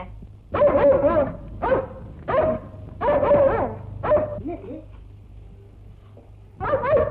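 A dog in a Tamil film scene barks in a series of loud, close, sharp bursts: a few quick barks, a longer volley, then a pause before more barking at the end, over low background hum.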